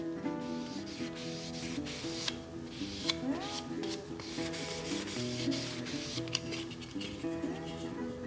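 Oil is rubbed into the wooden stock of an M1903 drill rifle by hand, giving a steady close rasping, rubbing sound over continuous background music.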